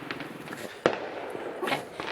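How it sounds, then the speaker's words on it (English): Fireworks bursting outdoors on New Year's Eve right outside a back door, with a sharp loud bang near the middle and further pops and crackles, some sounding distant, over a steady background. "personal fireworks display right outside of our back door on New Year's Eve."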